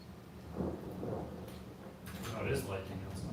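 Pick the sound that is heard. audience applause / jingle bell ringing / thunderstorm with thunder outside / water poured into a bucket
thunderstorm with thunder outside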